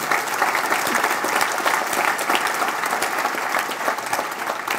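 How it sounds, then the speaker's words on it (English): Audience at a software conference applauding a live demo, steady, full clapping from many hands that stays loud and even throughout. "You picked a good time to applaud"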